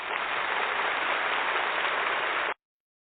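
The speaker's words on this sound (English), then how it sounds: "Let's give her a round of applause" A uniform burst of audience applause for a country-folk singer-songwriter runs steadily for about two and a half seconds, then cuts off abruptly to silence; no voices over it.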